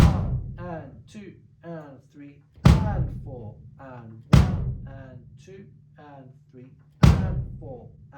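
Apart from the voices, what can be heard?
bass drum playing a rock beat pattern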